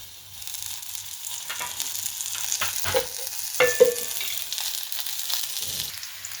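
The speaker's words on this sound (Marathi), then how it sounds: "त्यासाठी मी कढईत कांदा मिरची टाकली. त्याच्यात तेल टाकते." Onion and green chili frying in oil in a kadhai for poha, a soft steady sizzle rising with a few sharp spatters and stir scrapes midway, then settling.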